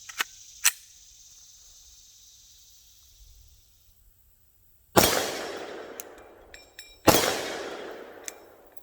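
Two loud, sharp 10mm pistol shots at an outdoor range, spaced about two seconds apart, each with a ringing decay and echo, plus a few faint clicks and ticks before and between them.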